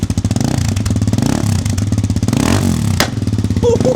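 A brand-new motorcycle engine revved hard and close, with a rapid rumbling exhaust note, rising and falling blips and a sharp pop near the end; loud, with no talk.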